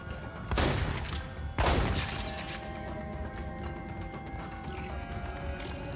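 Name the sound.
shotgun fire in the video game Red Faction: Armageddon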